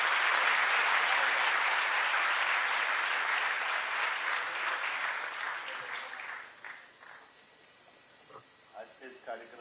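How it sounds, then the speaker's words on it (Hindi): Loud, dense applause from a large crowd at a public event welcoming the Chief Minister, sustained for several seconds before thinning into scattered claps and crowd murmur. "जोरदार तालियां।"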